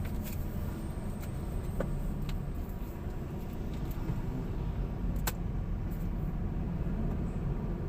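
Steady road traffic on a busy street in Las Piñas City, heard from inside a vehicle: a continuous engine and tyre rumble with occasional brief clicks and passing noises, no voices.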